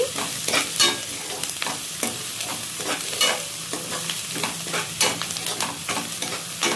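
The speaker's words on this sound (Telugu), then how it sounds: "ఇప్పుడు పసుపు కూడా వేసుకొని ఒకసారి కలిపేసుకొని" Onions sizzle in a pan with cumin and turmeric while a spoon stirs them, giving a steady frying hiss broken by repeated scraping strokes up close.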